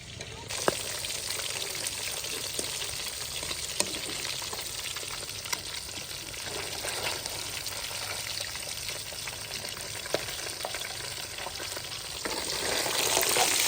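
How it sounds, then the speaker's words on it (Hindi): Fish frying in a pan for a village-style home-cooked meal, a steady close crackling sizzle of hot oil running throughout with occasional small pops and stirring. "आप ही जी मछली की तलाई कर रही है"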